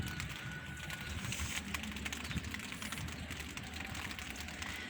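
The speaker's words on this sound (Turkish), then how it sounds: "çok aşırı yağmıyor ama çok hafif, çok tatlı bir yağmur var" Soft, steady patter of light rain falling on a terrace with succulent plants nearby, a continuous gentle hiss with scattered drips.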